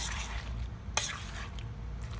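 A spoon scrapes and stirs through tuna macaroni salad mixed with mayo, carrots and celery in a bowl, giving a wet, continuous swishing with one sharper clink, close and fairly quiet.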